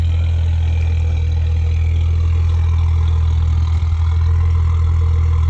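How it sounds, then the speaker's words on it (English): A car with a plexiglass hood idles loud and close at a car show open house, a steady deep low rumble running without a break and with no talk over it. "It's a crazy sounding car."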